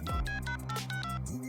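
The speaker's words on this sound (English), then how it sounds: "Look, I'm gonna call Mahmoud right now on this cell phone he gave me." A cell phone in a Family Guy cartoon scene gives a quick run of electronic dialing tones, several short beeps in a row lasting about a second and a half, heard alone with no talking.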